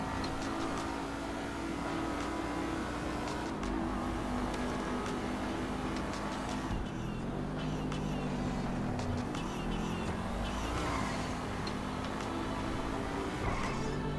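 Car driving in Grand Theft Auto 5, a steady engine drone with rising and falling revs as the vehicle speeds along, continuous and moderately loud, with background music mixed in.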